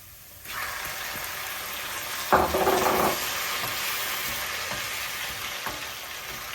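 Squid going into a pan of softened frying onions for a Tamil-style squid curry. A quiet background is followed by a sudden loud hiss as it lands, then a steady, continuous close sizzle with an occasional faint stir and no talking.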